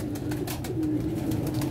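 Low, rolling coos from a female pigeon sound close by, continuous and even, with faint higher ticks above and no one talking.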